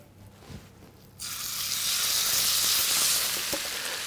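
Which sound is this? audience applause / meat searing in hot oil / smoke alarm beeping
meat searing in hot oil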